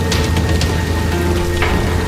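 Pelting rain falls steadily and loudly on a surface, a dense continuous hiss with no voices, heard close and unbroken throughout.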